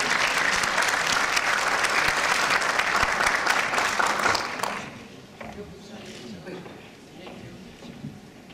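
An audience at an awards ceremony applauds loudly to welcome the awards president to the stage; the dense clapping runs for about four seconds, then drops away as quieter talk takes over.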